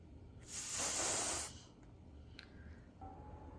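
A single burst of aerosol spray deodorant hisses loudly for about a second near an air purifier in a room, followed by quiet hum and faint clicks.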